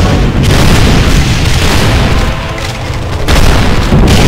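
Grenade explosions in the video game Doom, loud continuous booming blasts overlapping into a heavy rumbling roar that dips briefly before surging again.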